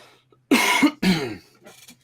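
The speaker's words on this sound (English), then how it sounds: "He's gonna cough it up." Two harsh, throaty coughs in quick succession, close and loud, followed by a faint breathy rasp.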